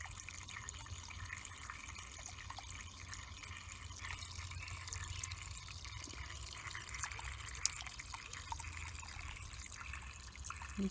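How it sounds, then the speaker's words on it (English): A small backyard waterfall runs over flat rocks into a concrete stream bed, giving a soft, steady trickle and patter of falling water that continues evenly throughout at a modest distance. "Here's the waterfall."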